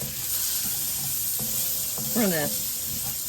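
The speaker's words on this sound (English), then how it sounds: "we're going to saute the onions, and we're going to get them nice and soft" Onions sauté in a pan with a steady, loud sizzle, and brief clinks and scrapes of stirring cut through the frying hiss.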